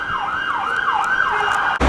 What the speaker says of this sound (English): you've got another ambulance struggling to get through